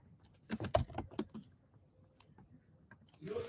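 Fingers typing code on a computer keyboard, a close burst of quick irregular key clicks, a pause, then a few more scattered taps at low volume.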